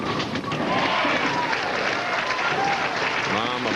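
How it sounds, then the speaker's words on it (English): Crowd applause fills an arena at a 1993 professional bowling tournament, a dense steady clapping that runs unbroken throughout, with cheering voices mixed in. "Mom applauding."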